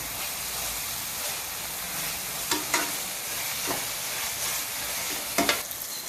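Onions, tomatoes, ginger and garlic sizzle and hiss in a pan for a chicken curry, with a spoon stirring and scraping in several sharp bursts close by.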